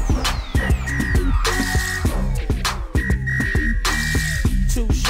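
A whistle repeatedly blown within a hip-hop song, steady high tones sustained over a dense thumping beat and bass, loud and continuous throughout.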